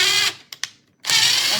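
A power drill whines as it bores a pilot hole, running in two steady bursts separated by a short pause with a couple of sharp mechanical clicks.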